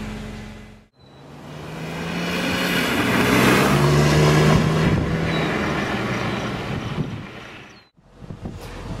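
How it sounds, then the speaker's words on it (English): A BMW E46 M3 convertible pulls away, its engine rising and building in a long sweep, with wind rushing past before it fades out. "Get underway in the M3."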